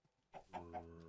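Minecraft chicken clucking in the game, three short close clucks in quick succession after a brief quiet start.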